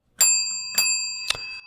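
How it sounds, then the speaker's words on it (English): A special bell rung three times at an even pace during a podcast, each bright metallic ding ringing out clearly with a short decay in an otherwise quiet room. "we've installed a special bell."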